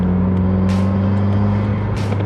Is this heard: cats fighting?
no